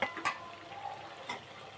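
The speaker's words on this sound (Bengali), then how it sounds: "ভালো করে উল্টিয়ে পাল্টিয়ে লাল লাল করে একটু ভেজে নিতে হবে" Green pea chops frying in a wok, a steady soft sizzle with a couple of brief louder scrapes as they are turned, close and without talk.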